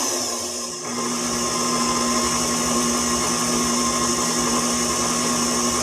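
An electric mixer beats peach muffin batter, its motor whining at a constant, loud, even pitch after a brief start, running steadily without pause.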